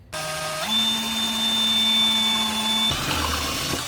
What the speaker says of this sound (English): So there's a little bit thicker plastic here for me to drill into.